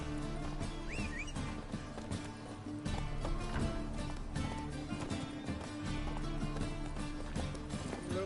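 Roach, Geralt's horse in The Witcher 3, gallops in steady rhythmic hoofbeats beneath a busy layer of game music and ambient sound, fairly quiet overall.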